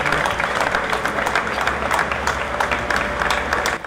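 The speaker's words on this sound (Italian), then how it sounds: "Un lungo applauso ha accompagnato l'uscita della bara." Long applause from mourners as a coffin is carried out at a funeral near Padua, a dense, sustained crowd clapping filling the whole stretch with little else.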